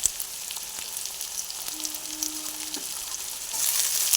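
Chopped onion and slit green chillies fry in hot oil for a jackfruit kofta curry, giving a steady close sizzle with faint stirring clinks and no talking.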